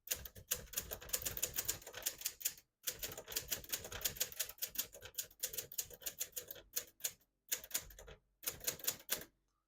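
Rapid clacking keystrokes on a 1979 Hermes 3000 portable typewriter in uneven bursts with brief pauses between runs, close and crisp, no voices.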